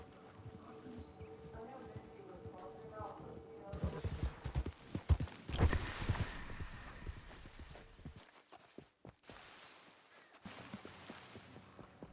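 Horse hooves clip-clop steadily in Red Dead Redemption 2 Online as the horse rides around in loops, the rhythmic hoofbeats running under game sounds with a brief quiet gap near the end.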